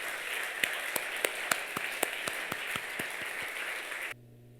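A church congregation at a dawn revival service claps in sustained, dense applause with sharp individual claps on top, ending abruptly to a quiet hum.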